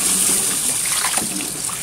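Liquid pours into a home-brewed Duvel-style beer while it is stirred, a steady close splashing and trickling wash that runs throughout.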